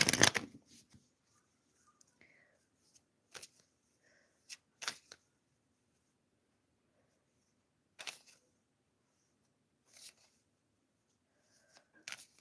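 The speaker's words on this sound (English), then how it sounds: "So let's shuffle a card for Svetlana" Tarot cards are shuffled in short, scattered riffling bursts separated by quiet pauses, close and crisp, with no talking.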